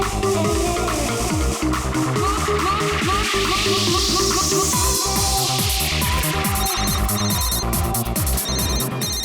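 Telephone rings in a TV crime drama scene, a repeating electronic ring pattern sounding steadily over loud background music throughout.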